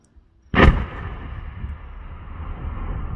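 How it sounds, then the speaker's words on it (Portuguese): A 120 mm mortar round explodes at a military camp: one sudden heavy boom after near silence, followed by a long rumbling roll that fades only slowly. "Como não houve o barulho passando aqui por cima, deve ser o morteiro. 120 milímetros."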